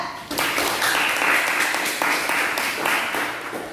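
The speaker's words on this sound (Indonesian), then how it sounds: "Kalau sudah, kita boleh tepuk tangan dulu untuk kelompok 3" Classroom applause for a student group after their physics presentation, a steady burst of many hands clapping close by for several seconds with no talk over it.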